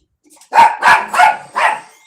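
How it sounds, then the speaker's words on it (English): Four loud, close dog barks in a steady rhythm, each sharp and evenly spaced, after a brief quiet start. "you barking ain't gonna stop her from leaving."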